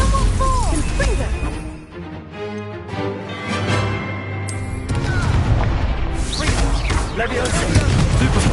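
Confringo blasting curse exploding in Hogwarts Legacy battle, a series of loud booming crashes and bursts mixed with shouted spell incantations and combat noise throughout.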